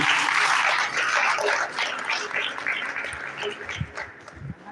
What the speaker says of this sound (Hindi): जोरदार तालियों के लिए